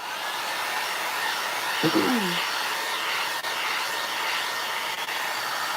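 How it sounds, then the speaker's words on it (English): Handheld dryer drying a paper craft spring book stack project, a steady continuous airy whoosh running throughout, close and fairly loud, with a brief faint tonal blip partway through. "I'm going to dry it right here real quick."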